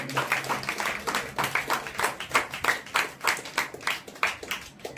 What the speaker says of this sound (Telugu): గట్టిగా చప్పట్లు కొట్టి దేవుని నామమున.